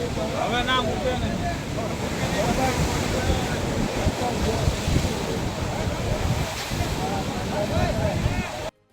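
Rough sea with a strong current pounds against Gomti Ghat in Dwarka, a loud, continuous roar of surf and wind buffeting the microphone, with voices speaking over it.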